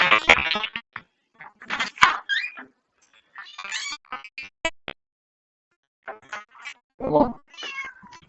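A house cat meows repeatedly in short, separate calls close by, with quiet pauses between them and no talking over them.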